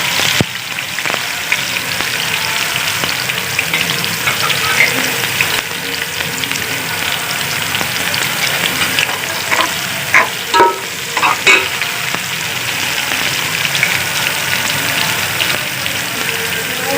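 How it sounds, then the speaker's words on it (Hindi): Onions frying in oil for chana pulao, browning in the pan with a steady close sizzle and crackle, occasional stirring scrapes and spoon knocks, no talking. "अभी इसको हम थोड़ा लाइट ब्राउन करेंगे प्याज"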